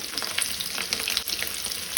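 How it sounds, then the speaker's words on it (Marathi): Paneer pieces sizzle and fry steadily in a hot pan, with a dense, crackling hiss and small popping spatters throughout, close and moderately loud. "पनीर अशें बरें फ्राय करून घेवपाक जाय।"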